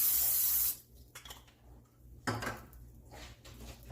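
A short hissing burst of aerosol cooking spray onto a pan, followed by quiet kitchen clatter and light knocks nearby.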